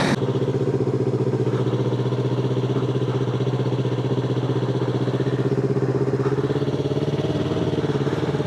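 Honda Ruckus scooter and Yamaha R3 motorcycle on a ride, a loud, steady, close engine drone with a constant buzzing pulse and no pauses.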